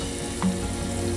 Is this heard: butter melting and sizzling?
yes